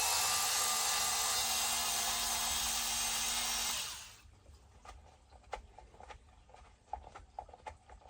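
A power driver whines loudly for about four seconds while removing screws from the rear end of a Traxxas XRT RC truck, then winds down into small clicks and rattles of parts being handled.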